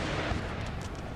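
Rumbling artillery fire in a Napoleonic Total War battle, a dense, continuous roar of distant cannon booms blending together without pause.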